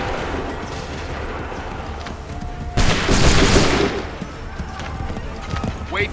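A musket volley in Assassin's Creed III: a loud, sudden crack of massed musket fire bursting out midway, with rumbling battle noise and shouting voices before and after.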